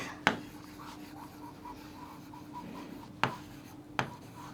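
Chalk or marker writing on a board during a class lesson, faint rhythmic strokes in a quiet room, broken by a few sharp taps as the writing tool strikes the surface.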